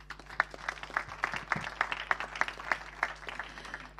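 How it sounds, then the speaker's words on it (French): A small audience at a business conference claps, a sparse, fairly steady patter of individual hand claps with a low hum underneath. "On peut l'applaudir."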